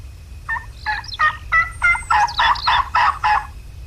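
A wild turkey gobbles in a hunting video game, a rapid rattling series of about eight loud, throaty bursts over faint low background noise.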